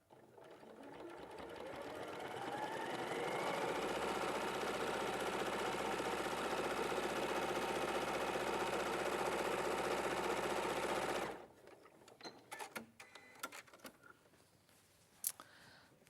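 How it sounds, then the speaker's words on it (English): A sewing machine stitches a June Tailor project bag, running in one steady fast mechanical whir for about eleven seconds before stopping, followed by quiet handling clicks and rustles. "So then we're going to stitch that."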